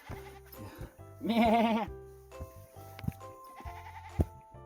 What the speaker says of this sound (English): That sheep just said, hi, come here.